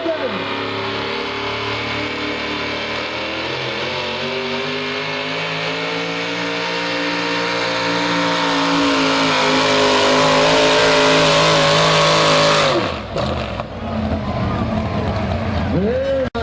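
A pulling truck at a truck and tractor pull roars with a sustained, loud engine drone that climbs steadily in pitch, then abruptly cuts and sputters near the end as the run finishes.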